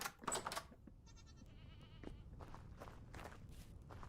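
Goats bleat in the modded hardcore survival game Vintage Story, a few short nasal calls near the start standing out over a low, steady background of ambient game sound.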